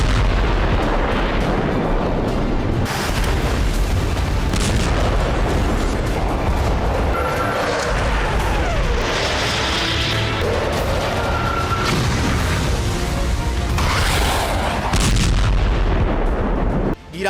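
Yemen war footage carries continuous loud rumbling explosions and artillery fire, dense booms and bursts layered over a constant low roar throughout, with no talk.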